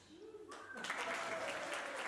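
At a Victorian-themed family magic show, a faint voice gives way to a swell of audience applause that starts just under a second in and holds steady, sounding fairly distant.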